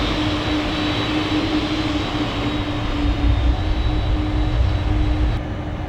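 Simulated PMDG 747-400 jet engines running after start in a flight simulator, a loud steady turbine roar with a sustained high whine and low rumble, no voices.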